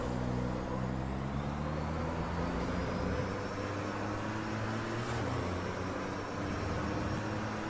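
Racing truck engine of a Volvo FH12 in a PC truck racing game, a steady loud drone with layered harmonic tones that hold and shift slightly throughout, no voices over it.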